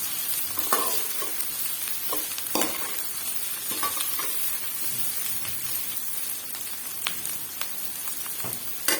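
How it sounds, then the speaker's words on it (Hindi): Bitter gourd (karela) fries over medium heat in a pan for chicken qeema karela, giving a steady close crackling sizzle with scattered pops and occasional utensil scrapes, no voices. "अब यहाँ पे मैंने करेले जो धोकर रखे थे वो डाल दी। और आँच जो है वो मीडियम रखूँगी, ज़्यादा तेज नहीं करना। और इसको करते हैं फ्राई।"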